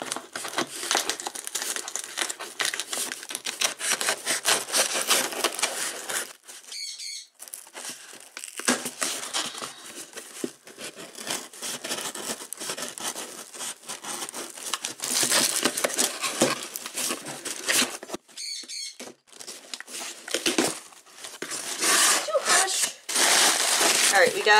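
Tape and plastic mailer from a Pokemon Center package being torn and crinkled open, loud crackling bursts with brief pauses, while a person talks over parts of it.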